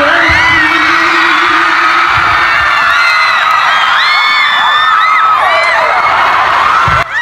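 A crowd at a campus mini concert screams loudly and continuously, a dense wall of high shrieks and cheering close by, with a few muffled thumps underneath.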